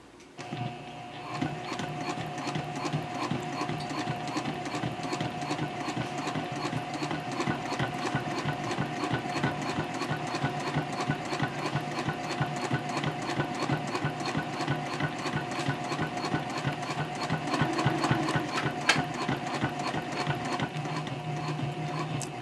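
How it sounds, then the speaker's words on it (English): A sewing machine set to a 3.0 stitch length runs steadily, stitching close along the edge of the zipper opening on a mini backpack, with a continuous rapid mechanical clatter that holds even and near throughout. "I'm going to be sewing about 1/8 of an inch away from the edge of the opening here"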